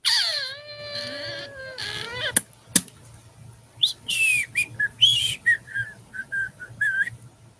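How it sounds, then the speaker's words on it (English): A person whistles several short, bright, sliding notes in bursts. The whistling is close and fairly loud, broken by a couple of sharp clicks and some quiet pauses. "I don't know why I whistled there."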